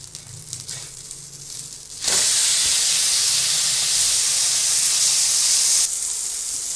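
A Madurai-style mutton dosa hits a hot street-food griddle after being flipped, bursting into a loud, steady hiss and sizzle that holds for several seconds, then eases slightly near the end.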